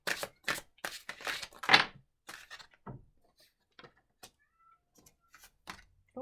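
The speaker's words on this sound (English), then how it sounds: "my kitty is making noises" Pet cat at home meowing in a few short, close calls at the start, followed by quieter, sparse small noises.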